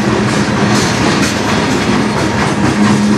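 A CN manifest freight train led by an Illinois Central Heritage locomotive rolls past close by on the Strathroy Subdivision, its cars giving a loud, continuous rattle and clickety-clack of wheels with a faint squeal, and no voices.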